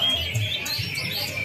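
A freshly caught oriental magpie-robin chirps in short, thin bursts over outdoor background noise at a songbird competition, fairly faint and mixed with distant murmur.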